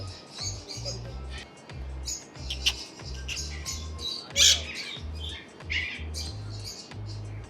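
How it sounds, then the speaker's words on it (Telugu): At a bird exhibition in Hyderabad, fancy pigeons give scattered squawks and thin chirps, a few louder than the rest, over a low, rhythmic thumping background. "ఇవైతే పీజియన్స్ అనమాట, ఒక రకమైన పావురాల జాతికి చెందిన ఇంకో రకమైన పీజియన్"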